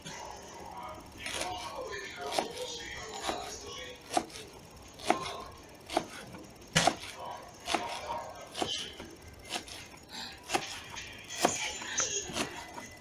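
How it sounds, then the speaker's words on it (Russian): A knife chops green onion finely on a cutting board, producing about a dozen sharp, uneven taps at close range, quiet overall, while a voice talks faintly in the background. "Нарезаем зеленый лук"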